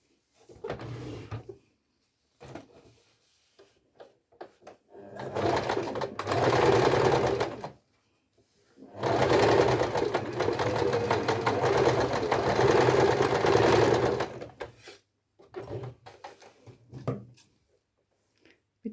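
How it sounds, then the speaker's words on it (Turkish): A sewing machine stitches a fabric sanitary pad wallet, running in several separate bursts of steady mechanical whirring, close and loud, with quiet pauses and small handling noises between runs. "bu dikiş payını içinde bırakacak şekilde şuradan bir santime yakın yerden tekrar dikiyorum"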